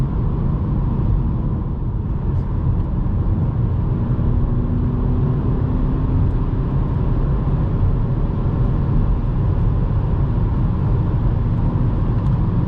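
A Volkswagen Golf 8 from 2020 drives fast on a road at night, heard from inside as a steady, loud rumble of engine, tyre and wind noise that holds throughout.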